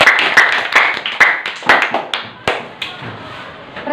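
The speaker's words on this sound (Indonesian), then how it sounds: "Maka kepada kelompok Lukas kita berikan tepuk tangan" A small classroom group claps for a student team presenting their product, several sharp, loose hand claps close by that thin out and slow down over a few seconds.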